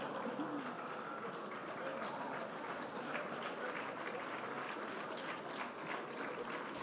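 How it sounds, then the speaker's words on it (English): An audience at the 2014 Thomas Nast Award ceremony applauds faintly and evenly, a distant, steady wash of clapping that holds for several seconds. "stop applauding."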